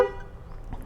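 A Mahindra Thar automatic diesel sounding its horn from the key fob button, one short, sharp honk at the start, then a brief quiet tail.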